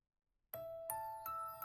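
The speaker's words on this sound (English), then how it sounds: "Those chimes sound really, really close to my ears." Three bright, ringing chimes sound in a video game, played back through a FIFINE AmpliGame H9 gaming headset. They come close and clear after a moment of silence, each strike sustaining a pure tone that overlaps the next.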